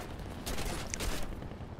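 A short burst of rapid gunfire from an enemy aircraft in War Thunder, a fast crackling rattle lasting under a second over a steady engine drone.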